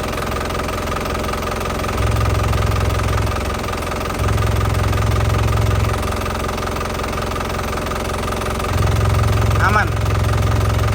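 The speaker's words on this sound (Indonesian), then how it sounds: "Lanjut kita hidupkan mesinnya, kita review" A 2013 Isuzu Panther Grand Touring diesel engine idles steadily with a rough, clattering rumble, swelling into louder bursts of low throb a few times as the throttle is blipped, heard close up.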